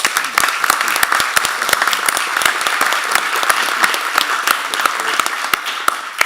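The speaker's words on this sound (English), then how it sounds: "I think we should give him a round of applause." Steady, enthusiastic applause from a crowd at a school district board meeting, many hands clapping densely and continuously at close range, with no talking over it.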